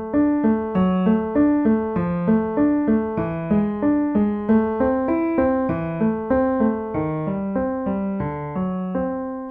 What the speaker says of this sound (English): if I play this section without pedal, but with exactly the quaver length notes required